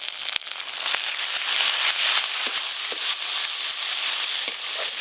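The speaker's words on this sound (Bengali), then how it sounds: "পেঁয়াজ কুচিগুলো তো একটু ভাজা ভাজা হয়ে গেছে, এবার আদা রসুন বাটা দিয়ে দেব।" Chopped onion with ginger-garlic paste and turmeric frying in a pan, a steady close sizzle with crackles and a few stirring scrapes throughout, no talking.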